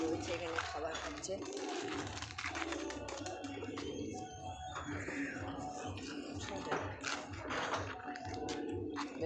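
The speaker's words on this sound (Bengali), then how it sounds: "বাবু পায়রাগুলো রয়েছে এখানে খাবার খাচ্ছে।" Pigeons, including lakka fantails, coo softly while feeding, with light pecking taps on the ground, under a steady background of rustle and a person talking.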